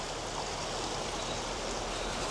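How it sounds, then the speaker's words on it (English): Clear mountain stream in Laos rushing steadily, a dense, even wash of flowing water heard close up with no voices. "The stream is real."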